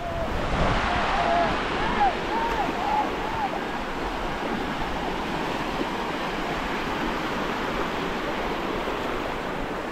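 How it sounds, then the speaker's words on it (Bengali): Small, gentle sea waves wash steadily onto the beach at Mandarmani, a continuous broad surf hiss mixed with wind buffeting the microphone, with a few faint distant calls early on. "এখন সেরকম ঢেউ নেই, হালকা ছোট ছোট ঢেউ"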